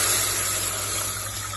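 Water is added to a pot for ghee rice, a steady broadband rush of running, pouring water lasting the whole moment at close range, with no talk over it.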